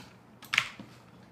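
A short burst of computer keyboard typing, a few quick clicky keystrokes clustered together and then a softer tap, close and alone against a quiet room.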